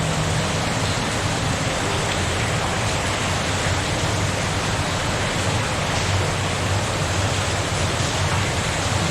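Streams of water pour into a flooded tunnel, making a loud, continuous rushing roar that echoes and stays even throughout, with no voices.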